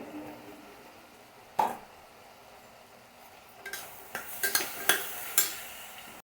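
Cut potatoes are stirred as they deep fry in oil in a pan, with a faint background sizzle and a handful of sharp scraping and clinking spoon strokes against the pan, mostly in the second half.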